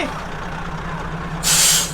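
A truck at a used six- and ten-wheel truck dealership in Ubon Ratchathani idles with a low, steady engine hum. Partway through, its air brake releases a sudden, loud, sharp hiss close by.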